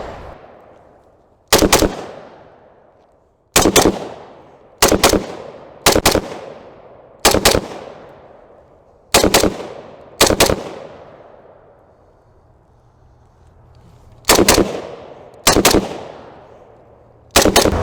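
A Century Arms VZ 2008 rifle, a VZ 58 clone, fires loud outdoor shots, some singly and some in quick doubles, each cracking sharply and ringing out in a long fading echo, with pauses between shots.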